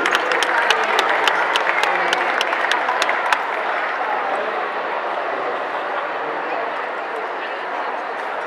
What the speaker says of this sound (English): Round of applause and ready for the next scene.